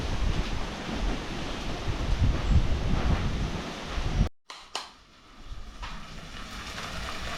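Strong gusting wind blows hard past a homestay with coconut palms, a loud, continuous broadband roar for about four seconds before cutting off abruptly into quieter, calmer air.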